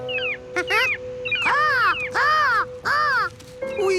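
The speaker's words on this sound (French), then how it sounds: "je sais qu'il y a des mouettes" Seagulls in a seaside cartoon give a run of loud, close, arching squawks, several cries in a row with short gaps between them.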